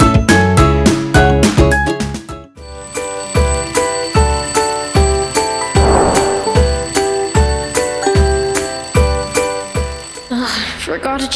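In the video game Roblox Brookhaven, an alarm clock rings in rapid bell-like chimes, then shifts into a steady repeating electronic alarm pattern, loud and close, with occasional voices in the background.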